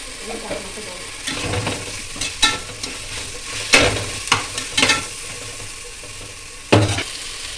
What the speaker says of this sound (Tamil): ரெடிமேட் அரைச்சி வச்சு இஞ்சி பூண்டு பேஸ்ட்டு சேர்த்து நல்லா வதக்கி கொடுத்துக்கலாம்.